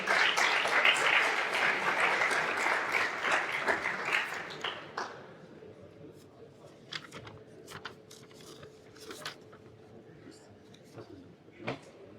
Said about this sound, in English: Everyone, round of applause, please